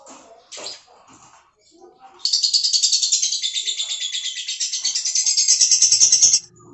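Lovebird chirping in a rapid, loud, steady trill that runs for about four seconds after some quieter voices and background noise at the start.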